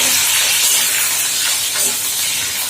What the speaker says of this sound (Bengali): এই যে পটলটাকে এখানে আমি ভেজে দিচ্ছি দেখো